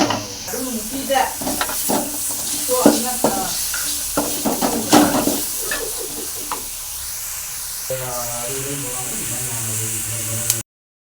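Sizzling and stirring in a hot pan as turmeric and curry masala fry for an eggplant curry, a steady frying hiss with scraping utensil clatter, close by, under a voice speaking throughout.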